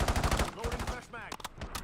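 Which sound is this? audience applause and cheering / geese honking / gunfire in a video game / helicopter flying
gunfire in a video game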